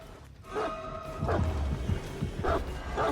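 A hound in the Dead by Daylight video game gives several short barks and yips in quick succession at moderate distance over a low game ambience.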